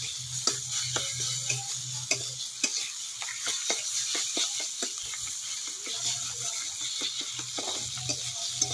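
Bean mash with fried onions stirred in a pan, a steady high sizzle under repeated scraping and tapping strokes of a utensil against the pan, close and continuous with no talk.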